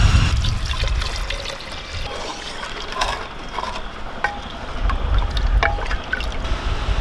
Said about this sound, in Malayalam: വെള്ളം കൂടെ ഇട്ട് കൊടുക്കാം